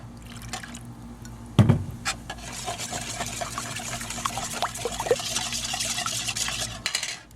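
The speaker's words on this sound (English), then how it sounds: "And 1 cup of water." A cup of water poured into a bowl of cake mix with egg and oil, a thin steady trickling splash after a knock against the bowl, continuing for several seconds before tapering off, no talk.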